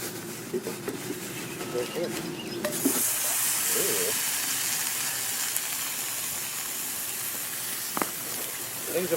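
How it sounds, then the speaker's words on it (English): Food sizzling in a pie iron over a campfire, a steady hiss that starts abruptly and holds at a moderate level, with a voice talking briefly before it begins. "Sizzling sounds are taking place here."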